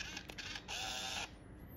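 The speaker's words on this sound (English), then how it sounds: "just press the shutter." Pentax Espio 140V compact camera shutter release: a few quick faint mechanical clicks followed by a short whirring motor burst, close and quiet.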